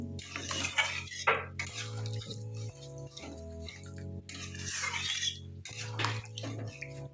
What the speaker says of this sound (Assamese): এতিয়া ভালকৈ লাৰি দিম।